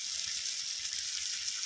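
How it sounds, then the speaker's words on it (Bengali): Fried vegetables sizzle in a pan of curry masala, giving a soft, continuous hiss that holds steady throughout with no voices over it. "এবার আমি একে একে ভেজে রাখা সবজিগুলো দিয়ে দেবো তরকারি কষানোর মধ্যে।"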